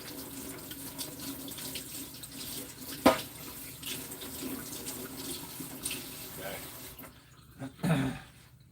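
Tap water runs steadily into a kitchen sink as a knife is rinsed during meat prep, a faint constant hiss with a brief splash and clatter partway through, while a person talks quietly over it.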